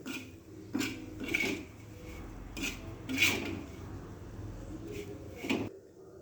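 Chilli is mixed with salt in a bowl, giving soft scraping and rubbing sounds with a few louder knocks of the utensil, close and fairly quiet with no talking.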